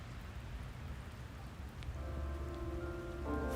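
Steady rain patters on surfaces outdoors during a walk, a soft, even hiss of drops that stays fairly faint, with a faint tonal hum entering near the end and no voices.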